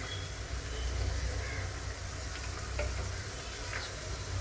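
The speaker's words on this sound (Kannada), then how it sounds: "ಇವಾಗ ಈ ಟೈಮಲ್ಲಿ ಕಟ್ ಮಾಡಿ ಇಟ್ಕೊಂಡಿದ್ವಲ್ಲ ಕ್ಯಾಪ್ಸಿಕಮ್ಮು ಮತ್ತು ಎಲೆಕೋಸು ಅದನ್ನ ಹಾಕೊತಾ ಇದ್ದೀನಿ" Chopped capsicum and cabbage go into a pan of frying vegetables, giving a steady close sizzle with soft stirring and clatter from the pan.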